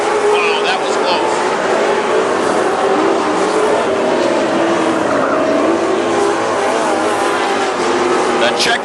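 WISSOTA super stock race cars roar past on the Princeton Speedway oval, a loud sustained blur of engines with cars sweeping by, while a race announcer talks over the PA throughout.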